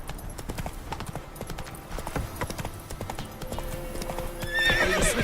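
Roach, the horse in the video game The Witcher 3, gallops with a brisk, rhythmic clatter of hooves, building louder toward the end, where a high whinny rings out.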